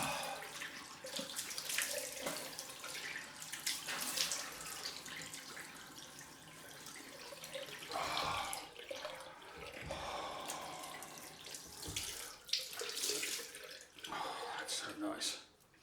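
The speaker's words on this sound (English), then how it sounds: "Cold rinse time." Water runs from a tap into a sink for a cold rinse after shaving, a soft, faint splashing that rises and falls as hands move through the stream, close by, with no talking.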